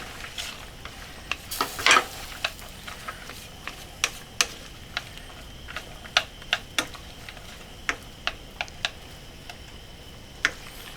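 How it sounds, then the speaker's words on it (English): Butter melting in a pan while being stirred, with scattered soft ticks and clicks of a utensil against the pan over a low, steady background hiss. "We're going to let that butter melt, and we're going to keep stirring"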